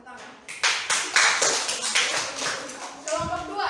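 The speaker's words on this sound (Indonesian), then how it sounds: "Oke, tepuk tangan." Classroom of Islamic school pupils clapping in a quick rhythmic pattern, several sharp sets of claps close and loud, with a voice speaking near the end.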